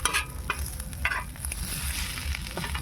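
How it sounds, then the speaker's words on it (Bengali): Egg omelette frying in a pan, a steady close sizzle with occasional stirring or scraping clatter of a utensil, continuous throughout with no voices. "দেখতে পাচ্ছেন ডিমটাও অমলেট হচ্ছে"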